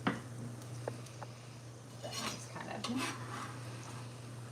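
Vegetables sautéing in a soup pot are stirred with a utensil, giving soft scrapes, light clinks and a faint sizzle under a low steady hum, quiet and close.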